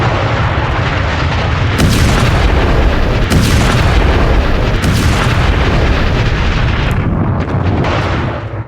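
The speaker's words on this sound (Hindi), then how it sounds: "वहां बारूद बिछाया और उसे उड़ा दिया" Heavy, continuous rumbling blast from explosives laid inside an underground Hezbollah tunnel, loud and sustained with repeated booming surges and no voices.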